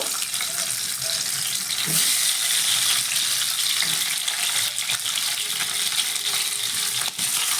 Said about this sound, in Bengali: তো এই তেলের মধ্যে আমি ডিমগুলো দিয়েও একইভাবে ভেজে নেব